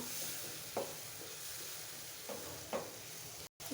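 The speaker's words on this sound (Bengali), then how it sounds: "কিছু কাঁচামরিচ কয়েক টুকরো দিয়ে মশলাটাকে ভালোভাবে কষিয়ে নেব" Spice paste with pieces of green chili frying in a pan for a thin gholsha fish curry, a soft steady sizzle broken by a few scraping stir strokes, close by with no talking.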